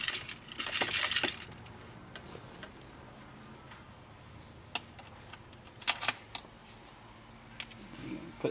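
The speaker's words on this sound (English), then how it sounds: "Turn the keys." A set of car keys jangles loudly for about a second near the start, followed by quieter scattered metallic clinks and taps over a faint background hum.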